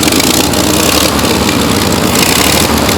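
A 1931 Chevrolet Sport Coupe barn find, parked for 70 years, runs loud and steady right up close, its engine holding an even, rough idle throughout with no talk over it.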